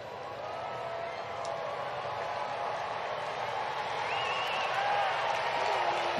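Baseball crowd at a Giants–Braves game in Atlanta, a steady roar of cheering and clapping from a large stadium audience that swells slightly toward the end, with no distinct voice standing out.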